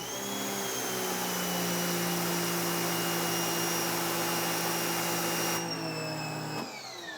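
A wall-mount pressure washer running at 1,800 PSI through a 25-degree green nozzle sprays in a steady, loud, close hiss with a constant motor drone, then cuts off abruptly near the end.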